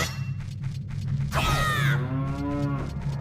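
Cattle low in the Cow Grotto of Majora's Mask 3D, a loud sliding moo rising then falling over a steady game hum, preceded by a brief whooshing sweep.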